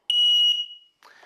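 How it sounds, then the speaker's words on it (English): A household carbon monoxide alarm emits a single loud, piercing high-pitched beep that fades out, followed by a short burst of rustling noise. "make sure your house has one of these, an audible CO alarm"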